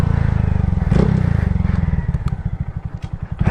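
Motorcycle ridden at a relaxed cruising pace, a close, steady engine putter that turns into a loping, pulsing rhythm as the throttle eases, with occasional clatter and wind.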